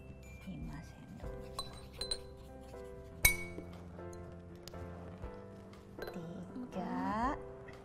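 A spoon clinks against a drinking glass while water is spooned into it during a children's lesson on seawater evaporation and rain, giving several bright, ringing taps, one sharp and loud, with talk around them.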